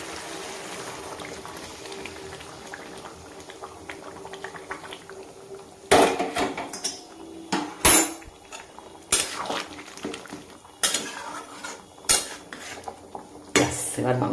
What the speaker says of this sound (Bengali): এই দেখো একটা চাপা দিয়ে দিয়েছি